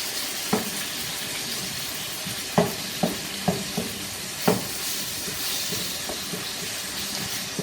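Store-bought marinated beef fries in a very large pot, with a steady loud sizzle and several sharp scraping knocks as it is broken up and stirred, and no talk.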